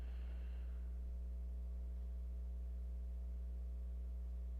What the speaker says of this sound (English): drawing a pure sine wave on an amp is really hard on it